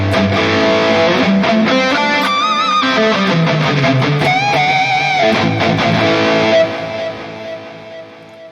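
Electric guitar plays through a high-gain amp model on a NUX MG-30 processor, distorted chords and sustained notes ringing with harmonic overtones before dropping to a quieter, decaying tail.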